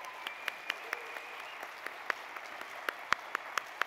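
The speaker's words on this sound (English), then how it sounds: "if you would give them a round of applause" Faint, sparse applause from an energy summit audience, scattered individual claps ringing out at irregular intervals over a quiet hall.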